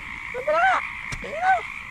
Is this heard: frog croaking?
yes